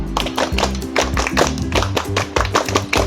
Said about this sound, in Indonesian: coba kita tes dulu tepuk pramuka